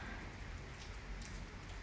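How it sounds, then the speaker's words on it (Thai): Soft steady rain falling in a garden, a faint even hiss of drops on surfaces with no voices, continuous for the whole short stretch. "ฝนตก ฝนตกค่ะเพื่อน"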